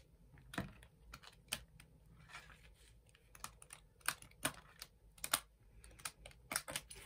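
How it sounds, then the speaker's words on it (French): Large oracle cards are shuffled by hand, producing faint, quick, irregular clicks and soft flutters of card edges, close but quiet, with no speech. "On mélange. Pas facile à mélanger les grandes cartes."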